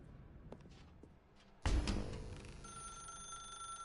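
In the video game The Stanley Parable, a telephone starts ringing suddenly after quiet ambient sounds, a loud, sharp ring that rings on and fades.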